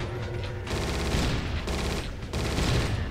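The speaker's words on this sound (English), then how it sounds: "Does this gun ever run out of ammo?" Sustained automatic gunfire from a weapon shooting nonstop in the Judge Dredd vs. Death video game, a loud dense clatter that runs through nearly the whole stretch with only brief dips.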